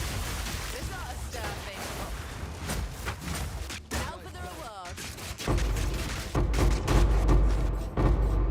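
Firecracker-like explosions pop in Path of Exile 2, a dense run of rapid crackling bursts layered over the game audio and followed by heavier booming impacts, with someone talking over them.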